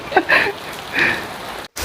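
Heavy rain pours down in a flood-hit village, a dense, steady hiss close by with a few brief louder spatters and a momentary cutoff near the end.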